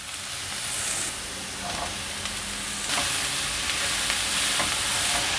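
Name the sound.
stir-frying enoki mushrooms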